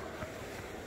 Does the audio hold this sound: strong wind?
yes